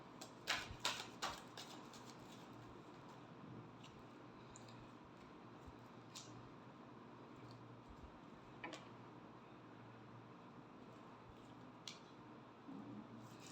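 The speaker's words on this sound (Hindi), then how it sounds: "Last shuffle." Tarot cards being shuffled, a quick burst of crisp riffling clicks at the start followed by quieter scattered taps and flicks of cards close by, with no talking.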